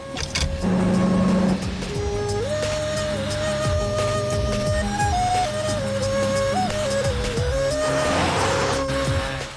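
A car being driven at a steady pace, its engine humming continuously with shifting tones and a brief mechanical whir near the start, heard alone without talk.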